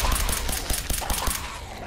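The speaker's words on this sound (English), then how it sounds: "Shoot the glowing one." Rapid automatic gunfire in the video game Fallout 4 on PC, a quick run of evenly spaced close shots over steady combat noise that tapers off toward the end.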